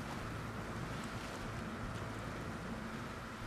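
SnowRunner truck, a modded GWC 1942 War Wagon, driving through a small puddle in fourth gear: a steady, loud rumble of engine and water wash with broad hiss, continuous and close, no voices.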